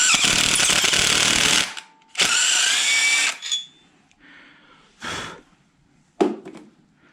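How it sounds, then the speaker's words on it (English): A power drill cleans dirt and debris from the head bolt holes of a 5.3L LS engine block, whirring in several bursts, two long runs then shorter spurts, loud and close with brief pauses between. "So I just use my drill"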